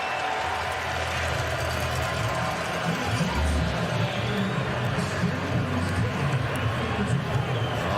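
A Calgary stadium crowd at a football game roars and cheers in a broad sustained wash of noise, with a commentator's voice talking over it.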